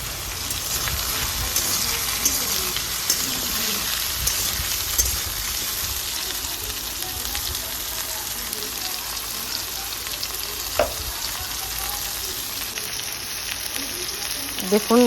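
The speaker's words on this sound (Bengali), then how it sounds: "ঝিঙেটাকে, আলু আর ঝিঙেটাকে ভালো করে একটু ভাজা ভাজা করে নিচ্ছি।" Potato and ridge gourd frying in oil in a pan, a steady close sizzle running throughout with occasional stirring clicks, no talk over it.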